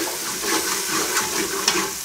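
Masala for chicken pulao sizzles and fries in a pan while being stirred, a steady close hiss with scraping stirs and small spatters, no speech.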